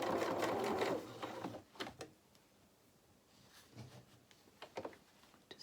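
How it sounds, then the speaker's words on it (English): A domestic sewing machine chain stitching across fabric: a close, steady whirring burst of stitching at the start, then quieter clicks and handling noises as the work is moved. "to save fabric, we can chain stitch."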